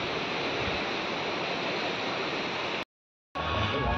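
Hundru Falls in Jharkhand roars as a steady, loud broadband rush of falling water, unbroken apart from a brief dropout near the end.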